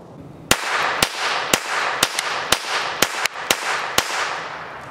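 About ten sharp, small-calibre reports in a fairly steady rhythm from a CZ Model 45 pistol firing 25 ACP rounds at a shooting range, each crack ringing briefly. The shots are loud and close, with no speech.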